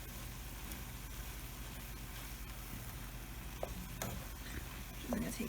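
Cheese mixture heating and melting in a pan gives off a steady low sizzle with faint stirring scrapes, soft and continuous throughout.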